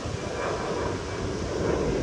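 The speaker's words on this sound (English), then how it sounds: "There's an airplane flying." Airplane passing over a beach, a steady broad engine rumble under wind and surf noise, fairly loud and continuous throughout.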